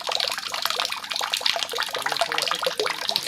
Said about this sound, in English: Someone is probably using the wash basin